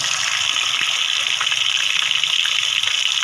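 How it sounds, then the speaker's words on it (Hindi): Fish pieces fry in hot mustard oil, giving a loud, continuous, rushing sizzle that holds steady without pauses or voices. "इसके अंदर आप इसको फ्राई कर लेंगे।"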